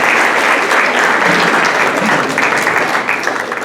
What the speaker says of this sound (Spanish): recibamos con un fuerte aplauso a Félix de Anda.